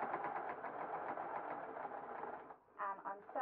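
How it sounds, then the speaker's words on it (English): A sewing machine runs steadily while stitching a fold in patterned stretch jersey cotton, then briefly pauses before a short restart, with a low mechanical hum and rapid stitching rhythm close by. "And I'm sewing as close as I can to the edge of this so that I'm catching the fold."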